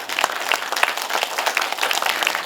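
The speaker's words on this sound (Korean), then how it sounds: "우리와 같은 박수를 쳐야지." Lecture audience in a cinema hall applauding, a steady wash of many hands clapping at once, full and fairly loud, with no speech over it.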